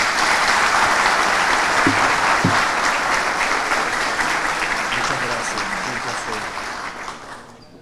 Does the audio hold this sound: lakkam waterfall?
no